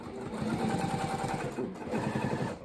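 A sewing machine stitches the edge of a reusable cloth napkin in two rapid, rhythmic runs with a brief pause between them. It sounds close and loud, with no talking.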